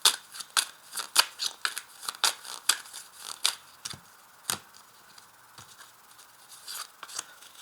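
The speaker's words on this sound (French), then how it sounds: "Je vais tirer une carte." Tarot cards shuffled and drawn from a deck: a quick run of crisp, close paper flicks and snaps in an uneven rhythm, with quiet gaps between bursts and no talking.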